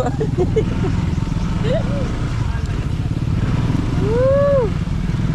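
Motorcycle with a passenger riding over a rough dirt track, a steady low engine drone running throughout with a brief rising whine near the end, while someone talks over it.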